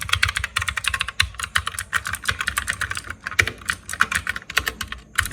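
Rapid, continuous clicky typing on a compact mechanical gaming keyboard with blue switches, the MX 5.2, each keystroke a sharp close click in a dense irregular stream with brief pauses, no talking.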